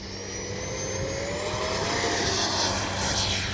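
A Freewing Mirage 2000 V2 RC jet flying overhead, its high, steady turbine-like whine sustained and fairly loud with a slight pitch drift, no voices.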